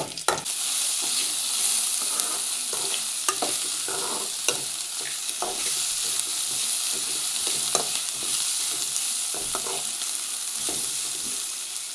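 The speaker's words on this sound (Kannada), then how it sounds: "ಈರುಳ್ಳಿ ಇಷ್ಟು ಫ್ರೈ ಆದರೆ ಸಾಕು." Chopped onions sizzle and fry in a pan for a mushroom curry, a steady bright crackle with repeated sharp scrapes and clinks of a spoon stirring against the pan, close and continuous without talk.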